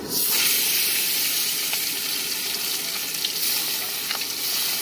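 Fish frying in very hot oil on a boat at night on a Sundarbans river, a loud continuous sizzle and crackle with faint spatter pops throughout and no talking.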